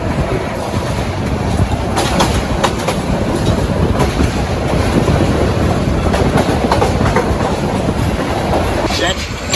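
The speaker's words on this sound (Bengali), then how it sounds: "প্রায় আমরা প্রবেশ করতেছি এখন বিমানবন্দর রেল স্টেশনে তো এটা আমাদের ট্রেনের প্রথম স্টপেজ" A passenger train runs from Dhaka Kamalapur toward Bogura as it enters Airport railway station. Loud, steady rumble and rail clatter fill the whole stretch, heard from on board.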